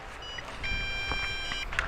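A Drocon Bugs 6 drone and its remote beep for low battery, a steady high electronic tone with pulsing beeps layered over a rough background hum, close by.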